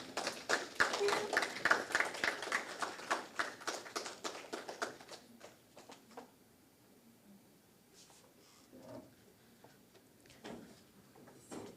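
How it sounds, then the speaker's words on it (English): A round of applause for a guest speaker at a trade union annual conference in St. Kitts and Nevis, rapid, fairly close hand claps that gradually thin out and fade to a few scattered claps. "I think our guest speaker deserves another round of applause."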